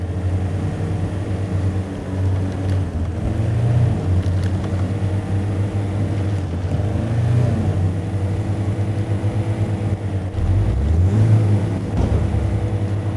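Off-road vehicle engine in the MudRunner Expeditions video game, grinding over rocks with a steady loud droning rumble that swells and revs in waves throughout, no voices.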